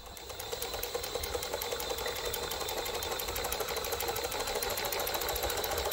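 A pulse tube cryocooler with its piston driven by a 750kV motor hums steadily at a fast, even mechanical rhythm, a faint constant buzz that never changes pace across the whole stretch.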